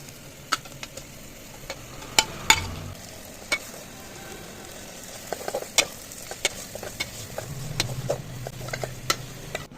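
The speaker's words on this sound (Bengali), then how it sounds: "এই গোস্তটাই রান্না করব আজকে অলরেডি এখানে কিন্তু মিক্স মশলা দেওয়া হয়েছে" Meat frying in a pan with mixed spices: a continuous soft sizzle with scattered sharp ticks and pops and occasional scraping stirs, close and fairly quiet.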